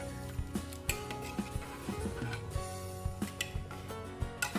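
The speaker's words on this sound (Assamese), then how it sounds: "ভালদৰে লৰাই ল'ব লাগিব।" Black rice pudding with raisins stirred in a pot, a spoon clinking and scraping against the metal in a steady rhythm of light knocks, close up with no voices.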